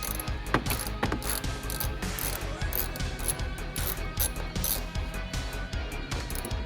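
Fast, continuous clicking of a small ratchet wrench backing out 9/32 bolts holding rear speakers in a 3rd or 4th gen F-Body car, close and steady without pause.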